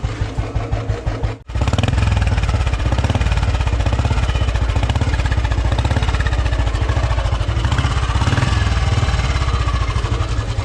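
A 2009 Royal Enfield Bullet Standard 350 single-cylinder engine runs with a steady, loud, thumping rhythm, briefly cutting out near the start before resuming an even beat.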